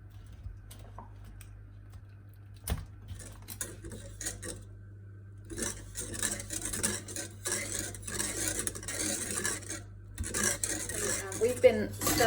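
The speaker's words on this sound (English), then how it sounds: "We've been stirring this for about 4 minutes now." Salted caramel sauce stirred in a pan, with soft scraping and occasional utensil taps under a steady low hum, faint at first and growing busier and louder toward the end.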